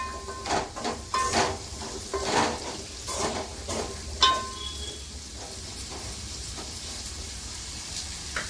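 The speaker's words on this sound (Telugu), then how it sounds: "పచ్చిమిరపకాయలు అన్నీ వేయించుకొని కొద్దిగా అయితే ఆయిల్ వేసుకొని కొంచెం మంచిగా వేగిన దాకా" Green chillies frying in a little oil, a soft continuous sizzle up close, broken by stirring scrapes and a few utensil knocks against the pan.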